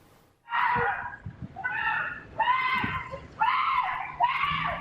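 A series of five shrill, drawn-out screams follow one another in quick succession, loud and close, with brief pauses between them.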